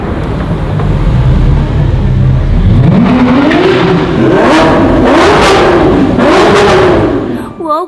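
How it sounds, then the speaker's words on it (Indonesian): A Lamborghini engine revs loud and close, its pitch climbing and surging in repeated bursts before it cuts off abruptly. "Ini mobil Lamborghini."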